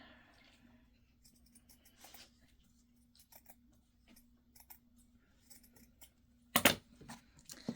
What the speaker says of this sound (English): It's just a little bigger than what I want, so I'm going to keep trimming until I get it where I want it.